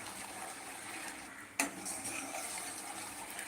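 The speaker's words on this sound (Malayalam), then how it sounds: "നമുക്ക് ആ പാൽപ്പൊടി ആ പഞ്ചസാരകൾ നന്നായിട്ടൊന്ന് മിക്സ് ആക്കി എടുക്കണം" Milk powder and sugar are stirred in a pan for a milk-powder coffee, making soft, quiet scraping with a faint sizzle and one sharp utensil knock about halfway.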